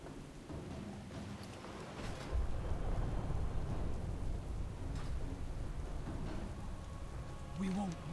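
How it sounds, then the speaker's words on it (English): Stormy weather in World of Warcraft at sea aboard a ship, with steady rain and rumbling thunder filling the background throughout, swelling louder after the first two seconds; a voice briefly sounds near the end. "This storm will soon overwhelm us."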